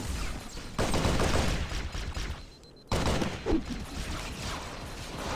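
Rapid assault rifle fire in the Halo SPV3 mod, loud, dense sustained bursts broken by a short pause near the middle, then continuing with mechanical clatter.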